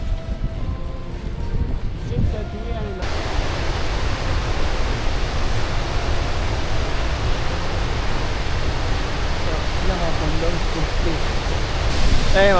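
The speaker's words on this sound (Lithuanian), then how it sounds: "Tokia nesustabdoma vandens srovė" A powerful Icelandic waterfall roars as a dense, steady wash of rushing water, loud and close, holding constant for about twelve seconds.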